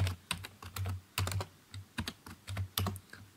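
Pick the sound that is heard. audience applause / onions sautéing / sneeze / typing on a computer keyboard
typing on a computer keyboard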